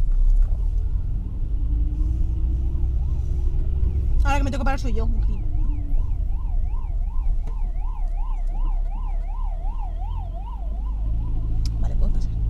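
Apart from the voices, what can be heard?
police car siren passing in traffic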